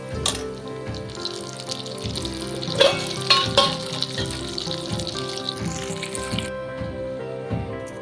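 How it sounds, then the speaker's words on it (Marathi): Fenugreek and mustard seeds fry in hot oil for a Maharashtrian lonji pickle, a steady close sizzle with crackling pops and a few louder bursts, with no talking. "आधी आपल्याला छान अशी मेथी आणि मोहरी तळून घ्यायची आहे"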